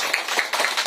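Church congregation applauding, a short burst of four or five crisp, evenly spaced claps, close and fairly loud.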